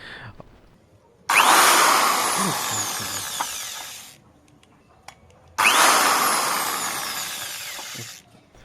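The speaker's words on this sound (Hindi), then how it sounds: "मार्क करके दोनों हाथ से ड्रिल मशीन पकड़ के आप यहाँ पर छेद कीजिए।" Electric drill machine boring a hole while building a homemade inverter light, two long loud whining bursts of several seconds each, separated by a short pause, close up with no talking.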